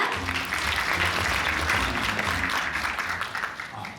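An audience at a restaurant-industry conference applauds to welcome a brand CEO to the stage, steady crowd clapping heard from within the hall for about four seconds with a low hum beneath, easing slightly at the end.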